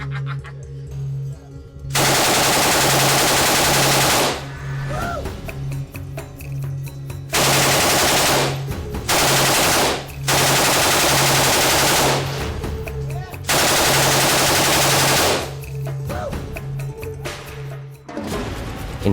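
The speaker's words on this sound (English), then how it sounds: "the saw pumps out bullets when it feels like it, as fast as it can, trying to force out the next bullet before the previous one is detonated" A SAW light machine gun fires in Call of Duty 4, loud stuttering bursts of rapid automatic fire lasting a second or two each, separated by brief pauses.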